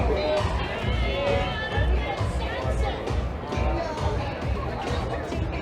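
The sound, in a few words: crowd of fans funneling into the SkyDome on opening day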